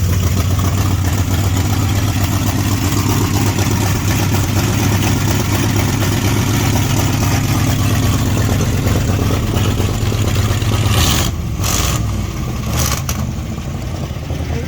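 The 383 V8 of a 1969 Plymouth Road Runner with dual exhaust idles loudly up close, a deep steady rumble with a lumpy throb, easing slightly near the end with a few brief bursts of noise.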